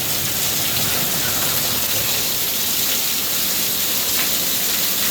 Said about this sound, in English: The state of Florida is terrible during the summertime with regards to pop-up,